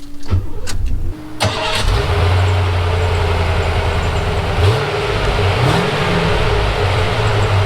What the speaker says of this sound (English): This thing starts instantly every time